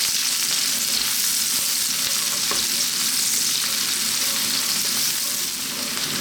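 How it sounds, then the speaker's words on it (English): Onion and garlic frying in olive oil over medium heat, a dense, loud continuous sizzle that holds steady from start to finish, close up and with no voices. "We've got some olive oil in there. We're going to add our onion and the garlic."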